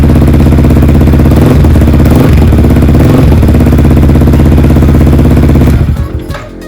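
Loud, close Yamaha R15 V4 motorcycle idling through a 3Tech Tridente racing exhaust, a dense rough rumble with small throttle blips, settling lower toward the end.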